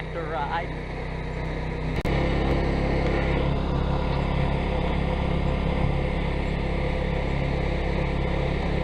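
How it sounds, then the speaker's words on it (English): A tractor engine drones steadily during a ride, a loud continuous rumble close by after a sharp knock, with people talking over it. "Going on a tractor ride."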